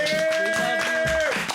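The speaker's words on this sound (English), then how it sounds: "Clap it up." Hands clap in a quick, steady rhythm during a podcast recording, fairly close and loud, with a sustained tone running beneath the claps.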